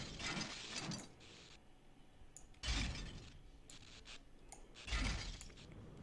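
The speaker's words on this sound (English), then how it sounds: "Maybe if we try to break the glass." Glass breaking in Half-Life: Opposing Force, three separate crashing, rattling impacts spaced a couple of seconds apart, each with brief debris, fairly faint overall.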